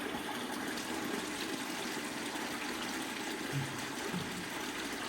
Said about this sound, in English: my husband has decided to empty out one of these water tanks that was full of horrible, old, foul-smelling rainwater